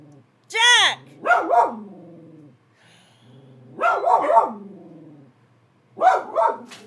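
A dog named Jack barks in three separate bursts of two or three sharp, loud barks each, close by, with quiet pauses between them and a voice nearby.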